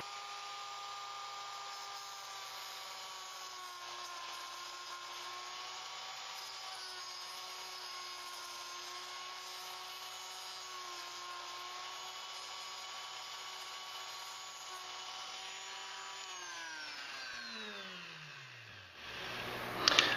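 Power tool whining steadily as it cuts a part for a Mazda 626 door courtesy light upgrade, a continuous high buzzing drone that holds for about seventeen seconds, then winds down in pitch before a brief loud clatter at the end.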